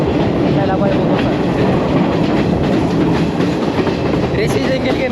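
A moving train in Sri Lanka rattles loudly and continuously, its wheels beating out a close clickety-clack over the rails amid constant carriage noise.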